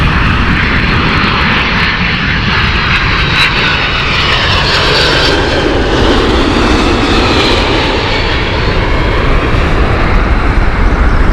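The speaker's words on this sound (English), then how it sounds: "767 of United 940. Should be a noisy one, this one." A United Airlines Boeing 767 jet roars loud and steady throughout, its broadband engine noise swelling and shifting as it passes close by an airport, with no voices.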